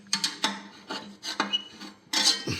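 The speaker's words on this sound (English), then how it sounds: "Just be able to give it a little wiggle with the screwdriver and coax it out" A screwdriver wiggles and scrapes at a part lodged inside a pellet stove, producing short, uneven scraping rasps in quick bursts, close up and with no voice over them.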